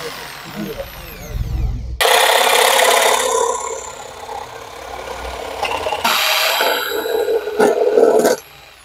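A Makita 4327 jigsaw cuts wood in loud, buzzing bursts that start, pause and restart, with a brief low rumble before the first cut and scattered knocks near the end.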